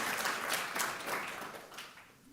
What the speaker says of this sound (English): Give them a bigger round of applause, please.